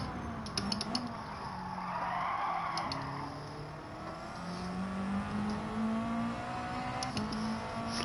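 A Subaru WRX engine in Gran Turismo 7 revs and whines steadily with shifting pitch, interspersed with brief tyre skid squeals, heard close and moderately loud without speech.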